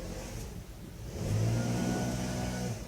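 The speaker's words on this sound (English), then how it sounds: "Some guy weed eating outside the building there." A string trimmer running just outside a building, its small engine whining steadily and rising in pitch as it revs up, heard at moderate distance.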